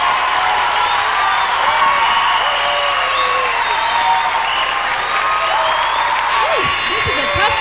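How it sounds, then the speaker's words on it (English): Audience at the 2003 Miss California Pageant breaks into loud, sustained applause mixed with cheers and whoops, a dense, steady roar of clapping that fills the whole stretch without pause. "we need a thunderous round of applause for the hard work that the rest of these contestants put up"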